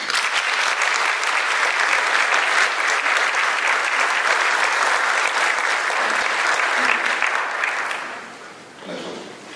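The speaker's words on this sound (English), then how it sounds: "I want you to give a round of applause." A large audience applauds the Stonecrest city council members at the State of the City Address, with steady, dense clapping for about eight seconds that then fades away, ending with a short burst of cheering.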